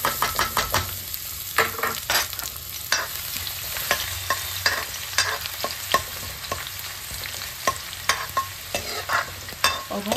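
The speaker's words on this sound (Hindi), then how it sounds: "और हम लहसुन को भी थोड़ा सा भून लेते हैं।" Chopped garlic fries with cumin seeds and fenugreek seeds in a pan for kadhi pakora, giving a continuous close sizzle broken by rapid, uneven scraping strokes of a spoon stirring against the metal, without any voices.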